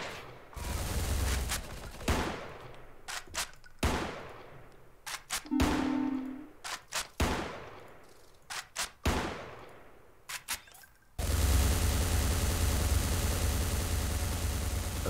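Gunfire in the video game Space Station 13: bursts and single shots crack loudly in an irregular rhythm, with brief pauses between volleys and a sustained roaring burst near the end, no talking.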